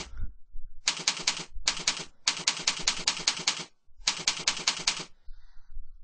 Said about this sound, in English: you're going to type in the name of the website that you're going to host